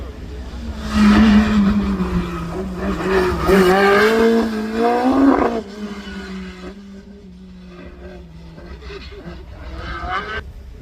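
Van Diemen race car with a Z-Tech engine at a hillclimb, revving hard through several rising, sharp gear pulls, loud and close at first, then easing into a lower, steadier drone as it moves away, with a commentator talking over it.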